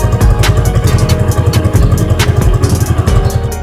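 Yamaha Sniper 155 motorcycle engine revving close up, a rapid pulsing clatter with repeated sharp throttle blips, loud and near, no talking.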